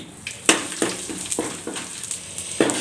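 Asafoetida and dried chilies sizzle in hot oil for a pressure-cooker sambar, with a steady close frying hiss broken by several sharp crackles and spoon stirs.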